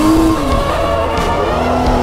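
A drift car on a race track in Londrina runs close by with a loud engine drone and sustained tire squeal, its pitch sliding as it slips through the turn, steady and near throughout.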